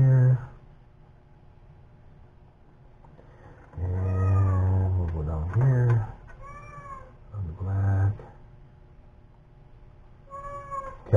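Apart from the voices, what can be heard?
cat meowing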